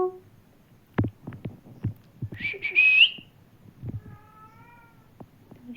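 A parrot gives a short, high, whiny meow-like call imitating a cat in the middle, between scattered soft thumps and taps; close and fairly clear.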